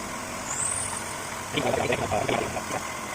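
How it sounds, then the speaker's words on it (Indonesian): A Toyota Avanza engine idles with a steady low rumble during a radiator coolant change; a brief high hiss sounds early, then rattling mechanical clatter rises over the drone. "jadi ini mesin sudah menyala"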